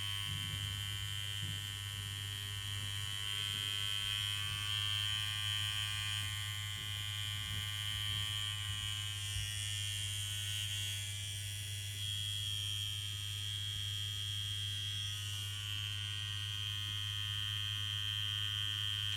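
A KillerBee tattoo machine warmed up slowly at about 17 volts gives a steady, close electric buzz with a constant low hum, running alone with no talk.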